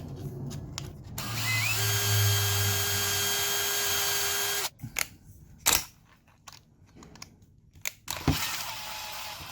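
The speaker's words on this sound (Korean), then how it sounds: "600번을 가지고 좀 갈아 보겠습니다" A copper pipe cutter blade is ground against 600-grit abrasive, giving a steady close buzzing, grinding whine for about four seconds, then stopping, followed by a few short scraping clicks and handling knocks.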